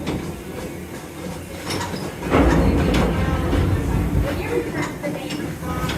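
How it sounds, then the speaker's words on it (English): A train rolls through a closed water park station at Kings Island amusement park without stopping, a steady rumble with rhythmic clatter that swells louder midway, with a voice speaking over it. "Ordinarily a train would stop here, drop people off at the water park, but it's closed today, so it's just rolling on through."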